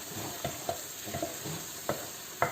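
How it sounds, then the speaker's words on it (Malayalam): A spoon works through a bitter gourd kichadi mixture in a pan, making brief scraping strokes and light taps over a quiet background sizzle. "ഇതെല്ലാം കൂടെ കൂടി നമുക്ക് നല്ലതായിട്ട് മിക്സ് ചെയ്യണം"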